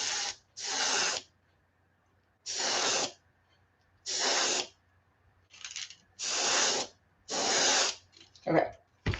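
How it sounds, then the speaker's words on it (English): An airbrush sprays paint onto a fishing lure in repeated short bursts of sharp hiss, about seven close blasts separated by brief pauses, with quiet talk between. "Oops, I keep spraying that in the wrong cup."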